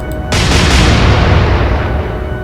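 A single heavy naval gun salvo booms in the Atlantic Fleet video game, a loud sharp blast followed by a rumbling decay that fades over two seconds.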